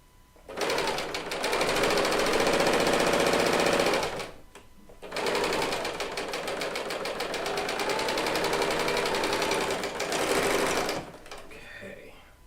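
A serger sewing machine runs loud and steady in two long bursts separated by a short pause, with a voice speaking faintly behind it.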